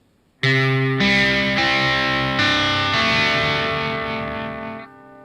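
A slow distorted electric guitar riff, a handful of heavy sustained notes struck one after another, ringing out and fading at the end.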